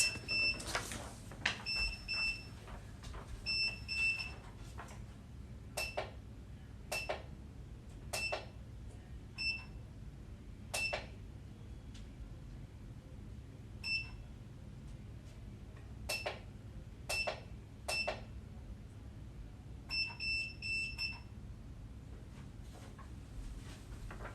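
Short electronic beeps sound in small clusters, repeating intermittently over about twenty seconds amid clicks and clatter in an indoor space.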